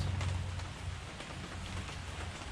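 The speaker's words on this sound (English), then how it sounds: "there's an awful lot of splatter and cold water just" Rainwater splashes and splatters steadily nearby, a continuous wet hiss with a low rumble underneath.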